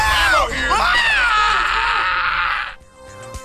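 An anguished, drawn-out death scream from a character in the zombie shooter Left 4 Dead, loud and wavering for nearly three seconds before cutting off abruptly into quiet game background.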